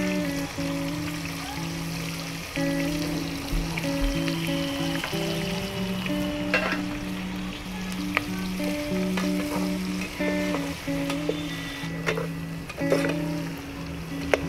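Onions for egg biryani frying in a pan, a steady bright sizzle that goes on throughout, with occasional stirring clinks and a faint tonal hum behind it.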